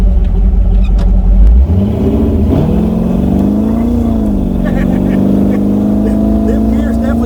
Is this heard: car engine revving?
yes